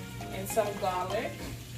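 Garlic sizzles and crackles in a hot pan at close range, a soft steady frying hiss with a few brief pops while a voice speaks over it.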